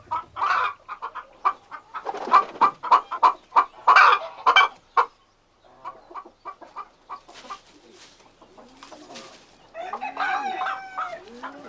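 Farmyard hens cluck in rapid, loud bursts close by, pausing briefly before more scattered clucks, then a rooster's crow rises near the end amid continued chatter of the flock.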